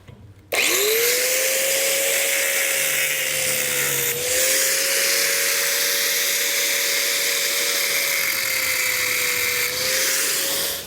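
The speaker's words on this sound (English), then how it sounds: "We're just gonna use our cut-off wheel to do so." A cut-off wheel cuts off screw ends on a metal continuous hinge, a high-pitched power tool whine grinding steadily and loudly for about ten seconds after a short quiet start, with a brief dip midway.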